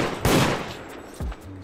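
A shotgun fires in the horror video game Deceit, two sharp, booming blasts about a second apart.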